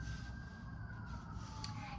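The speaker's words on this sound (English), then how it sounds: "I'm hearing the sirens" Emergency vehicle siren wailing outdoors at a distance, one steady tone slowly sliding lower over a constant low hum of traffic and room noise, faint throughout.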